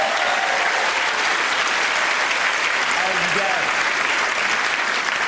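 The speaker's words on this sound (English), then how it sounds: "That's worth a round of applause." An audience applauds steadily and densely for the whole stretch, a full even wash of clapping from a crowd.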